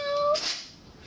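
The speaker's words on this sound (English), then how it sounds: "in this one here we have a cat that is animatronic" An animatronic toy cat gives a short electronic meow-like call with a steady tone that shifts upward, then a brief breathy burst, close and fairly loud, with no talk.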